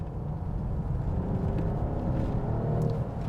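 A 2021 Mercedes E450 All-Terrain accelerates in Sport Plus mode with a subdued, continuous low engine rumble and whir, heard from within the wagon at a steady, moderate level.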